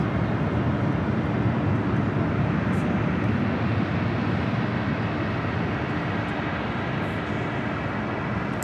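A United Airlines Boeing 787-9 Dreamliner rolls down the runway for takeoff at LAX, its jet engines a loud, steady broadband roar that holds throughout with no voices over it.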